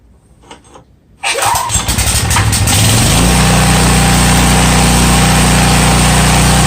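After a quiet pause and a few faint clicks, a Craftsman 11 HP 6300 watt generator engine catches from a rope pull and roars to life loudly, then settles into a steady, close, rumbling idle.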